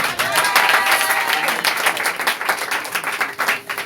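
Church congregation applauding during a service, a dense, steady wash of many hands clapping that carries on throughout, with voices mixed into the crowd.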